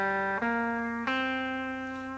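Guitar notes rising through a minor-type scale ending on a high C, played firmly and cleanly: three sustained, ringing notes with sharp attacks, close and alone.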